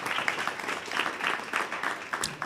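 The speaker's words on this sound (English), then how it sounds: "Another round of applause for Stuart." Applause from an audience at a blockchain tech meetup at Civic Hall in New York, a moderate, steady patter of claps sustained throughout without talk.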